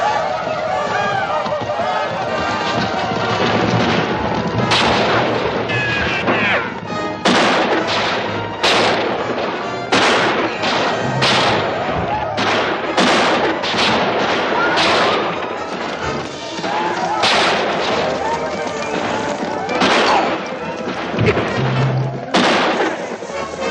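Gunfire and artillery explosions from a western movie battle: a dense, loud barrage of sharp shots and booms crackling in rapid, irregular volleys over a continuous roaring din for the whole stretch.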